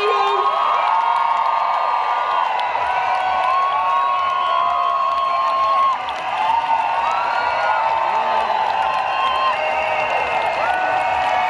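A large live concert crowd at Birmingham Pride cheers and whoops continuously, loud and close, with shouting voices blending into a sustained roar.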